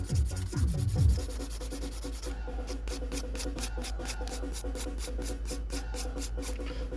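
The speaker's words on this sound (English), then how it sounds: "So I'm just taking a 240 grit and then a little bit on the top surface." A 240 grit file rubs back and forth across an acrylic nail surface, making close, rhythmic scratchy strokes with a quick, even pulse over a low background hum.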